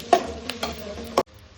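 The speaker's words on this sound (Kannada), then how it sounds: "ಚೆನ್ನಾಗಿ ಫ್ರೈ ಆಗಿದೆ. ಶುಂಠಿ ಬೆಳ್ಳುಳ್ಳಿ ಪೇಸ್ಟು." Ginger garlic paste frying with onions in a hot pan, a soft steady sizzle broken by several sharp stirring clicks and taps, close up with no talking.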